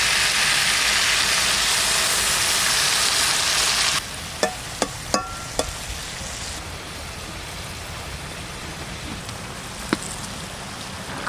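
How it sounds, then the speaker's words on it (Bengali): Mustard, cumin and green chili paste being stirred into a sizzling fish curry with vegetables, a steady loud fry that drops after a few seconds, then a few sharp spoon clinks against the pan. "এবার সর্ষে, জিরে, কাঁচা লঙ্কা বাটা দিয়ে দেবো এর মধ্যে"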